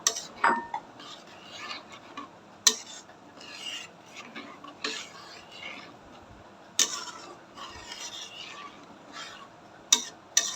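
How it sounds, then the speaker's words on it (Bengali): Rice flour being stirred into a pot for rice sandesh, with steady scraping and rubbing of a spoon against the pan and a few sharp metallic clinks, close and moderately quiet with no talking. "এবার আমি অল্প অল্প করে চাউলের গুঁড়াগুলা দিতে থাকবো আর নাড়া দিব"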